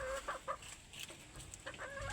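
Hens that are late in their molt cluck faintly on a backyard breeding farm, soft short clucks scattered in a quiet, low outdoor setting with no talking.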